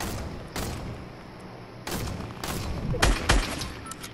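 Gunfire in Fortnite, several sharp bursts of shots spread across a few seconds, with a heavier cluster of loud reports near the end, over a steady background rumble.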